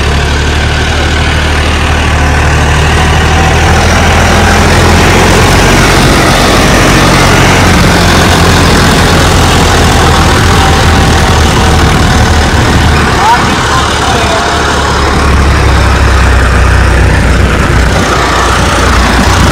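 An upgraded 15 hp farm tractor engine runs loudly and close, a heavy low rumble that holds steady and then sags as the RPM drops under load.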